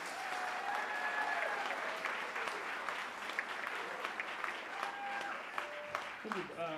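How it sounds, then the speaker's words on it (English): Audience applause for a 6th grade middle school chorus at a spring concert, steady dense clapping filling the hall for several seconds, with some cheers and whoops over it. "Can you give them a round of applause before we start?"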